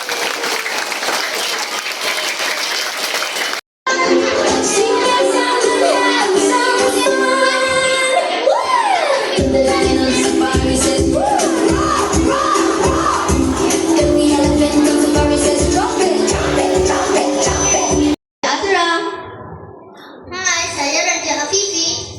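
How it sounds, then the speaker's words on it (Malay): A class of schoolchildren at a science month school event clap for themselves, loud and close, a dense burst with children's voices mixed in and a brief cut before scattered claps and chatter resume. "Bagi tepukan pada diri awak."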